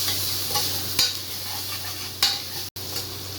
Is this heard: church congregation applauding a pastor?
no